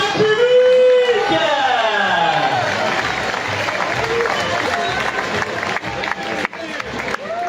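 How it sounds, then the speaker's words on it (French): A crowd outdoors at a village festival in Lansargues applauding and cheering for a young band. Clapping stays steady throughout, while a loud, pitch-sliding voice rises over it at the start and talk carries on beneath. "on applaudit bien pour la jeunesse"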